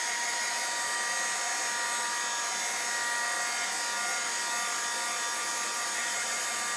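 Hair dryer blowing steadily on wet alcohol ink artwork, a continuous loud, high-pitched whir that holds unbroken from start to finish with no talking.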